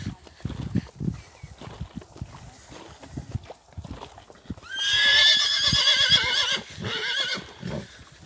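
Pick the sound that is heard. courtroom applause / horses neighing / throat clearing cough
horses neighing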